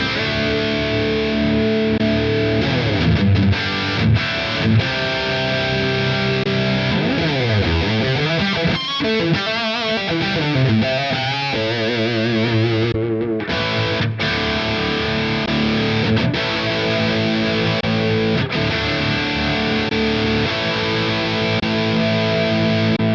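A distorted electric guitar plays chords and riffs through a higher-gain overdrive amp capture on a Tonex, loud and sustained, with no voices.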